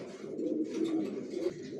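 A pair of young racer pigeon chicks, dark-feathered squabs, coo softly and continuously at close range, a low burbling murmur with a few slightly louder swells.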